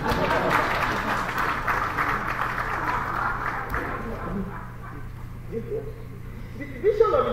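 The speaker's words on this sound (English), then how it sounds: "can I clap for myself?" Steady applause from a conference audience in a hotel hall fills the room throughout, fairly loud and continuous with a low room hum, easing slightly toward the end.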